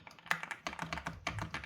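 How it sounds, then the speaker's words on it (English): Rapid clacky keystrokes on an Ajazz AK820 Pro mechanical keyboard connected over Bluetooth, close and crisp, a quick irregular run of about a dozen taps with no talk. "start using my keyboard here"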